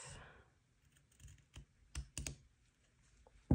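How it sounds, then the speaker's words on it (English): Scissors trimming excess bias tape at a sewing table, a few short crisp snips in quick succession, close and moderately quiet. "So just take a pair of scissors and trim"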